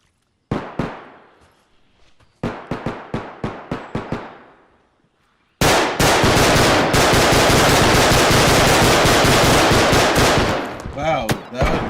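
Video game gunfire in a Gun Game match where each kill swaps the weapon: a few spaced single shots, then a quick string of shots, then loud sustained automatic fire, close and dense.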